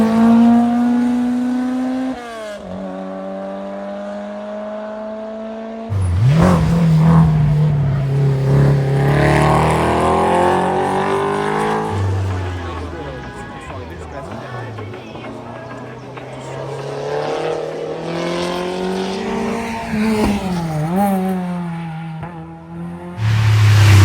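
Historic competition race cars at a hill climb roar past one after another, engines revving hard through gear changes with rising and falling pitch, loud and close, with voices talking over the engine noise.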